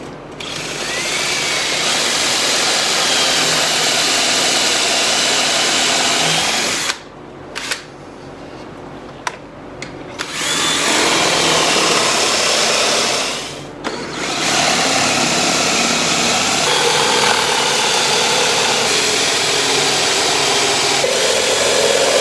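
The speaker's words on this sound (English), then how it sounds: "So lots of drilling and my little depth stop." A power drill with a depth stop whirs loudly and continuously, pausing briefly a couple of times before biting into the wood again, close and up front, drilling holes for a console.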